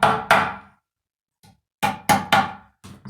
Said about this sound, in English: I smooth it out by hammering from the middle toward the edges